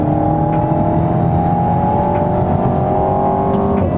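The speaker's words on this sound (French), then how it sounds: "la sonorité du moteur qui gueule vraiment super fort" An Alpine A110 Légende's engine drones loudly and steadily at high revs, a continuous close roar with a slight shift in pitch and no voices.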